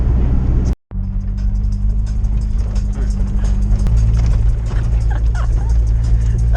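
A low-riding truck rolls over a bumpy road, a loud continuous engine and road rumble with steady low tones, a brief dropout near the start and small rattles and knocks from the rough surface.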